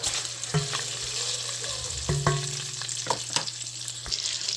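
Bacon frying in a pot as the base for a loaded potato soup, a steady close sizzle with occasional sharper pops and clinks of a utensil stirring.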